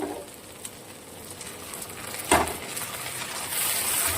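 Chopped onion and tomato sizzle steadily in a hot pan for a Bengali katla fish kalia, with a soft scrape of stirring and a brief louder clatter midway, close and fairly quiet, no voices.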